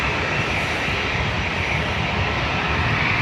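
A Ryanair jet departs Dublin Airport bound for Athens, its engines a steady, loud, unbroken roar.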